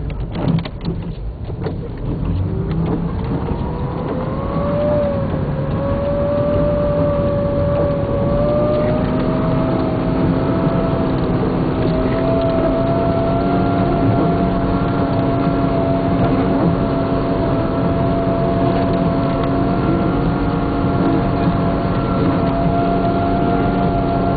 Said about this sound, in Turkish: Motor sesini de duyuyorsunuz şu an.